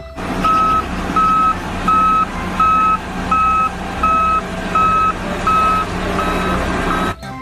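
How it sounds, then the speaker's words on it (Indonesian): A toy road roller sounds its reversing alarm, a steady series of about ten evenly spaced electronic beeps over a low motor hum, loud and close, with no talk. "Di sini ada mobil silinder."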